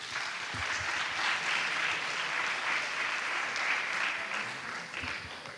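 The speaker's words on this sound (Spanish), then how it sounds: "Un aplauso, por favor." Applause from an audience in a large lecture hall at a medical congress, steady and full-bodied throughout, with a few louder individual claps standing out near the microphone.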